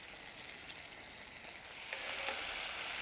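Restaurant-style base gravy cooks down in a pan with a quiet, even bubbling sizzle that swells slightly in the second half, with no talk.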